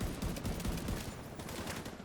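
Rapid bursts of gunfire crackle at a steady distance, overlapping volleys forming a dense fusillade that eases slightly toward the end.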